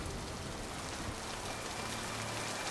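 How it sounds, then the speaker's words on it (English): Heavy rain pours in the video game Mass Effect 2, a dense, steady hiss of downpour with no breaks and no voices. "It's raining. It's raining hard."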